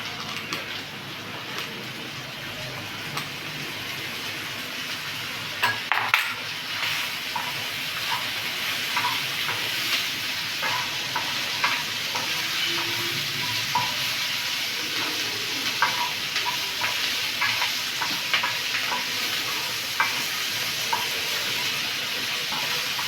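Bitter gourd curry sizzles steadily in a pan on a kitchen stove, with occasional scraping stirs over a continuous close hiss of frying and no talking.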